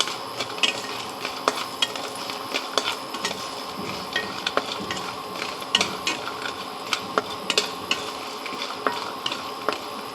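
Bori, lentil dumplings, fry in a little oil in a pan, giving a soft continuous sizzle punctuated by frequent sharp ticks and scraping stirs of a utensil, with no talking.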